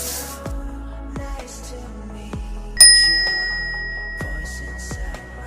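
A bright bell chime rings out once and rings on, among a few other sharp metallic clicks and taps, with no talking.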